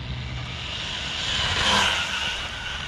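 A WLtoys RC car fitted with a bigger motor, faster gearing and a stock ESC makes a full-throttle run, a continuous high whine that swells as it passes close and then eases off.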